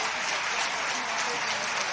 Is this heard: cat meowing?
no